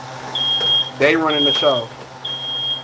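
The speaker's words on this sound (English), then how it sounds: "smoke detector on my nerves" A smoke detector chirps with a sustained high electronic beep, sounding in long repeated tones while someone talks over it in the foreground.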